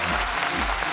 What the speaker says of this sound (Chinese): 音乐在哪里？ 掌声在哪里？